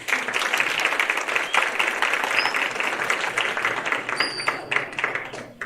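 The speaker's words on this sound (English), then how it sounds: "one more round of applause for our juniors." An audience at a pocket pet show in an exhibit hall applauds, with sustained, dense clapping from a crowd lasting throughout and fairly loud and close, without talking over it.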